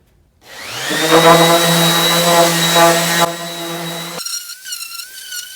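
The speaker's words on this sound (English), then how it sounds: "a light sanding. I just want some of the junk taken off of, and it'll clean up a lot of the dirt and whatnot." A power sander with 120-grit paper runs over rough pallet wood, giving a steady, loud motor whine for about three seconds before the pitch shifts to a thinner, wavering whir as it winds down.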